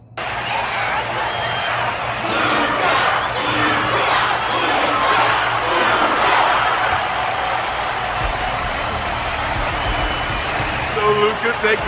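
A large crowd applauds and cheers in a steady roar, with a voice speaking over the noise.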